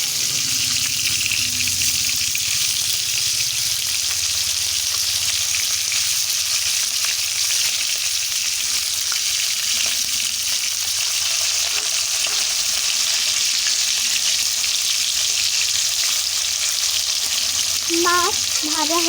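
Fish pieces frying in hot oil in a kadai wok give a dense, unbroken sizzle at close range, with light stirring scrapes. A brief clatter near the end could be a piece being turned.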